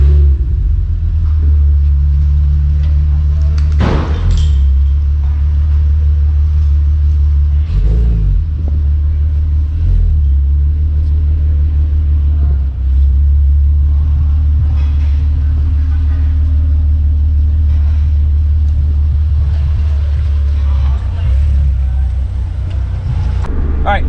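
Car wagon cruising home on a road, a steady low engine drone and tyre rumble throughout, with a few brief accelerations, under occasional talk from inside the cabin.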